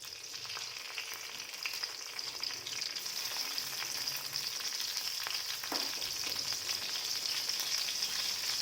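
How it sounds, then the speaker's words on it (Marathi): Chopped green chillies fry in hot oil with a steady, close sizzle and crackle that holds throughout, with no voices. "तेल चांगलं आपलं गरम झालं तर त्याच्यात चिरून घेतलेली हिरवी मिरची"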